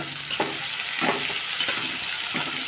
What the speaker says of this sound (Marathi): त्याच्यामध्ये टाकते मी आता बारीक चिरलेले कांदे दोन कांदे मी इथं चिरून घेतले होते बारीक त्याला हलकंसं सोनेरी रंग येऊ देते